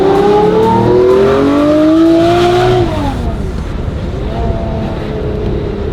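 Manual Lamborghini LP640 engine revs hard, its pitch climbing in a loud sustained surge for about three seconds before dropping away to a lower, rougher rumble as the car keeps moving.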